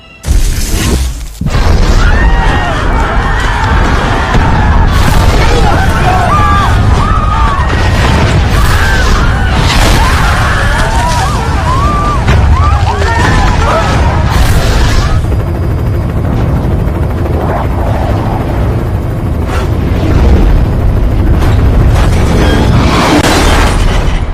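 A large explosion opens the inFAMOUS video game in the Historic District. Loud, dense blast and rumble with debris and crackling sustained almost throughout, no talk.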